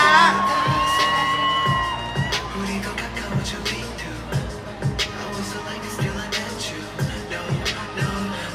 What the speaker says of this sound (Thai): ขอเชิญปรบมือหน่อยฮะ